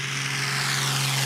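A small propeller plane engine roars at takeoff from a backcountry airstrip, a loud steady drone with a strong constant hum and no voices.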